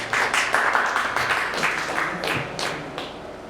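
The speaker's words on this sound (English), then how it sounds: "A round of applause for that." An audience at a young entrepreneurs' hangout event claps after a speaker; a moderately loud burst of overlapping hand claps that gradually thins out toward the end.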